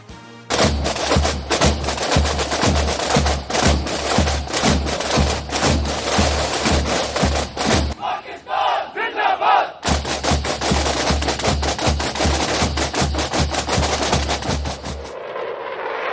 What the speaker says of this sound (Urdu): شاندار آتش بازی کا مظاہرہ ہوا